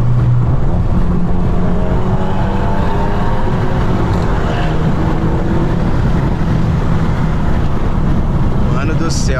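A Jetta TSI with a Biagio 300 turbo and remap roars steadily under hard acceleration, a loud, continuous, close engine drone with shifting pitch throughout, heard from inside the car.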